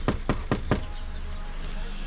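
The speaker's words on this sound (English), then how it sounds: "I'm just gonna try to knock on the door first." Four crisp knocks land in an even rhythm on a house door, close and fairly loud, followed by a quiet pause of room tone.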